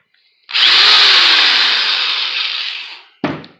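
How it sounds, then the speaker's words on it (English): A power drill boring through a 15/16 rubber cork whines loudly for nearly three seconds, its pitch sagging slightly as it bites, then a brief second burst at the end. "I'm going to drill a hole right through the middle."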